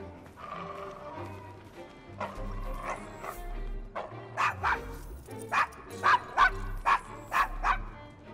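A dog barks in Assassin's Creed Syndicate, in the rough Devil's Acre district of Victorian London. Low grumbles and whimpers build into a run of loud, close, repeated barks near the end.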